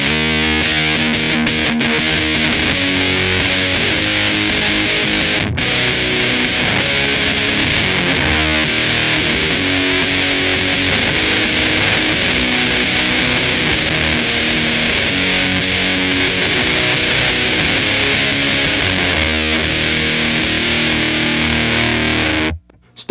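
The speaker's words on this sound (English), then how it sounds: "So if we turn it down, all the way down, we're still gonna get a pretty fuzzy sound." Electric guitar runs through a Boss TB-2w Tone Bender fuzz pedal with the attack knob at minimum, a thick, buzzing, continuous fuzz tone playing riffs loud and alone, stopping abruptly at the end.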